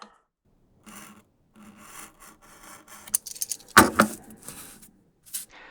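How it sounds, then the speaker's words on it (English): A leather wallet back piece is cut out by hand: scattered rasping, scraping strokes come in short bursts, with a sharper, louder crunch partway through. No talking. "So now we can go ahead and cut this little wallet back piece"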